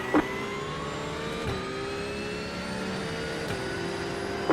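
Race car engine in an iRacing IMSA race at Portimao, revving steadily at high pitch with a few sharp gear-shift drops and pickups, loud and continuous with no talk.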